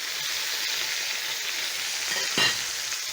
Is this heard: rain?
no